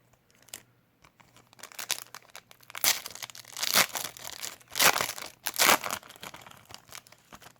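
A foil Pokémon Sword & Shield promo card pack being torn open, with loud crinkling and ripping bursts coming in several bouts, close and without talk.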